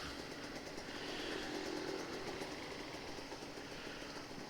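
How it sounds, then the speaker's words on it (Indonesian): A Kawasaki Ninja RR 150 two-stroke motorcycle engine warming up after two weeks unused idles and runs steadily with a low continuous rumble, fairly quiet and even, without distinct sharp revs. "ini gue harus geber dulu motor gue"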